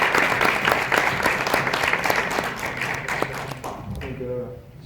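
Audience applause after a question-and-answer session following a film screening, dense steady clapping close up that thins and fades toward the end.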